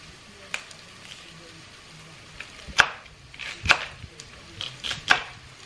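Knife chopping celery and vegetable scraps on a board, a few sharp scattered chops standing out over quiet kitchen background, fairly close.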